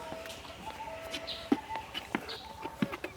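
Chickens on a farm where goats and cows are kept, a few short clucks and bird calls at moderate distance over faint background noise.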